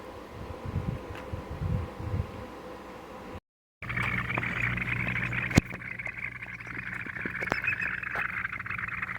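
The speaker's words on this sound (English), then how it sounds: "You guys hear those frogs?" Frogs calling outdoors near a boat on a 79-degree day, a steady dense chorus of trilling and croaking, moderately loud, with a brief dropout and a single sharp knock partway through, no talking.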